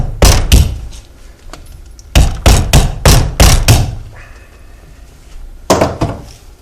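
A hammer whacks a rusted-solid car strut from a 2006 Acura, delivering loud, sharp metallic blows close by: two quick hits, then a rapid cluster of five or so, and a final pair after a pause.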